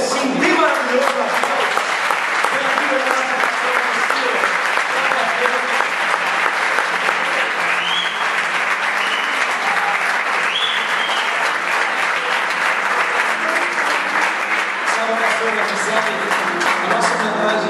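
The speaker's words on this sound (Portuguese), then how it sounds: "fique de pé e dê um aplauso daquele assim, bem maravilhoso" A church congregation stands and applauds loudly and continuously, a dense wall of clapping that fills the room, with cheering voices and some talk mixed in throughout.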